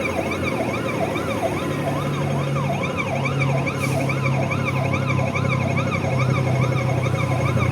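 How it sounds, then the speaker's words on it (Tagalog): Several wailing sirens from a parade of ambulances rise and fall steadily over rumbling traffic, loud and continuous, with an engine drone underneath. "Ayan, yung mga ambulance. Kanina pa may dumadaan."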